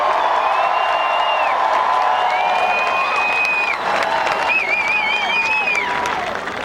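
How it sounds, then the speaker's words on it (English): A political rally crowd applauds, cheers and whoops loudly for Joe Biden, a continuous roar of clapping with several piercing whistles rising above it throughout. "I want everybody to give a big round of applause to Joe Biden."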